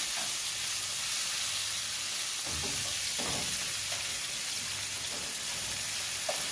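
Shrimp sizzling in a hot pan for jerk shrimp alfredo, a loud, steady frying hiss that runs unbroken throughout, with a few soft stirring scrapes and knocks underneath and no talk.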